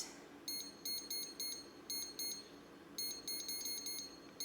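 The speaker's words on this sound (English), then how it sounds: "Now I'm gonna set my Pampered Chef timer to 15 minutes." A Pampered Chef kitchen timer gives short, high electronic beeps in quick irregular bursts as its buttons are pressed, fairly close in a quiet kitchen, with no talking.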